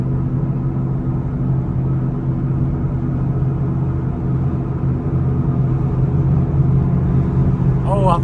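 A $200 Ford Mustang cruises at 55 mph around 1600 RPM, with a steady low engine drone and road rumble heard from inside, constant throughout with a brief squeak near the end.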